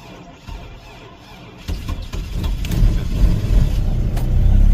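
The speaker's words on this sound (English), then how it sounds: "Now that's a cold start." A Buick Rendezvous with an Atlas engine cranks and fires up on a cold start at minus one degree, its oil thick as gel; a quiet start gives way to a rising, steady engine roar that stays loud and close.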